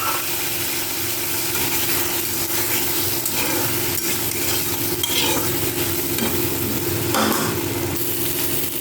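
Ground poppy seed paste, mustard and chili going into a hot pan for a fish recipe, giving a continuous loud sizzle and frying hiss with stirring and a low background hum.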